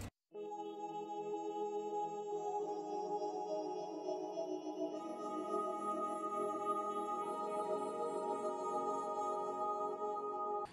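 Shimmering synth pads from the Expand instrument in an Afrobeat production hold steady, bright layered chords that swell slightly midway and sustain loudly throughout, with no voices.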